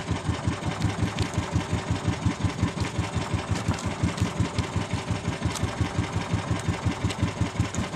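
Fast, steady thudding of fishing boat engines running at sea among many boats, a loud rhythmic chug that pulses evenly throughout without any talk.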